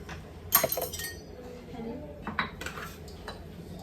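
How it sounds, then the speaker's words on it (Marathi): A big spoon mixing mashed, peeled potato in a bowl, giving a few clinks and knocks against the dish over soft background noise, close and moderately quiet. "आता आपण हे सगळं मिक्स करून घेऊया छान असं मोठा चमचा घेते"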